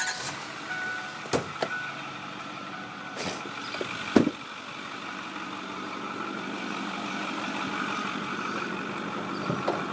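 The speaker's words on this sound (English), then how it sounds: "Let me fire it up so you can hear it run." Ford 6.4 liter Powerstroke diesel pickup engine idling steadily, a continuous mid-pitched rumble with a few brief clicks and knocks near the start.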